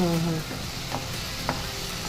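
Jackfruit frying in a pan, with a steady close sizzle and a couple of soft stirring scrapes and taps throughout.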